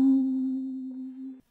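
A clean plug sound sample from Ty's Por Vida multi-kit: a single sustained low tone with faint upper harmonics, steady and alone, fading slightly before cutting off abruptly after about a second and a half.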